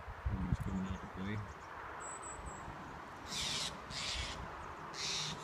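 Steller's jays give harsh, raspy calls outdoors in three separate bursts in the second half, fairly close and loud, after a brief low voice-like murmur at the start.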